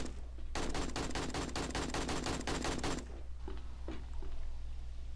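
Rapid automatic gunfire from the survival zombie game 7 Days to Die (Darkness Falls mod), a steady burst of evenly spaced shots lasting about two and a half seconds, loud and close, followed by a few scattered faint clicks and thuds.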